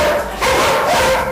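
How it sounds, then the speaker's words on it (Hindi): Several dogs bark and yip continuously at a boarding kennel in Ahmedabad, a loud, dense chorus of overlapping barks and whines with no pauses. "आप सोच रहे होंगे कि हम आपको भौंकते हुए कुत्ते क्यों दिखा रहे हैं।"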